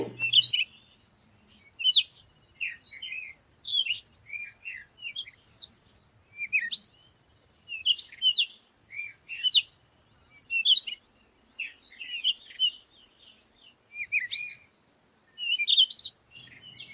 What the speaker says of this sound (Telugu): మార్నింగ్ సరదాగా అలా బర్డ్ సౌండ్స్ వింటూ